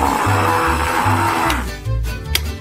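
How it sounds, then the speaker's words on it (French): Coffee beans being ground into powder in a kitchen, a loud, close motor whirring in short, repeated bursts with brief pauses and rattling between them. "Il faut broyer les graines de café en poudre."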